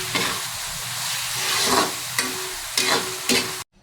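Ground meat frying in a pan is stirred with a utensil, giving a steady hiss of sizzling broken by several sharp scraping strokes before the sound cuts off abruptly.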